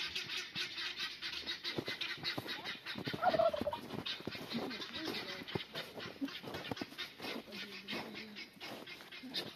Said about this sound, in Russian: Мне нравится, как за вами индюки бегут.